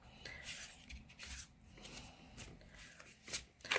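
Tarot cards being shuffled by hand, soft papery riffles and rubs in bursts at a quiet, close level, with no talking.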